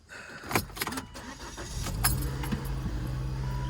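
2006 Volvo V50 wagon with about 159,000 miles: keys jangle and click, then the engine cranks and catches into a steady low idle, recorded close with no talk.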